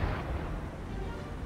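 Heavy naval gunfire from warships such as the USS North Carolina in the War on the Sea game, a continuous deep booming rumble that stays loud throughout with no distinct gaps, alone and without talk.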